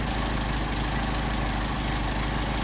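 A Mercedes 190SL engine with Solex 44PHH carburetors idles at about 750 RPM, giving a steady, continuous low rumble with no speech and no change in pace.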